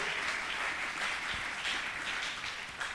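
A church congregation at a gathering applauds the Lord, a steady, dense wash of clapping from many hands that holds evenly loud throughout.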